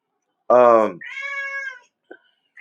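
A cat meows loudly and close by in two drawn-out calls, the first louder and harsher, followed by a couple of faint brief sounds.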